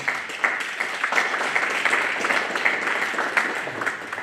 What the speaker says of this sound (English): Give Mr. Rose a round of applause, everyone.